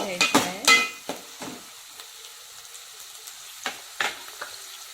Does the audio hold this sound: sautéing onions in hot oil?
yes